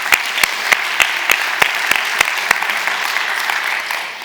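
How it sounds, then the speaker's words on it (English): Applause from an audience at a gender-lens investing event, a burst of sharp individual claps that thins out over a few seconds and fades to a light patter. "Applause also there."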